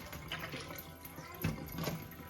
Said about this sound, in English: Now I am just gonna throw off this water.